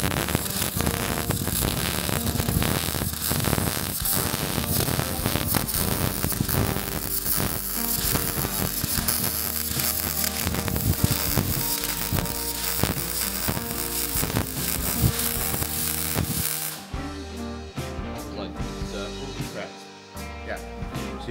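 MIG welding a repair plate onto a Land Rover Series 3 outrigger area: a steady, loud crackling buzz runs continuously for most of the clip, then cuts off near the end into quieter hum and pauses.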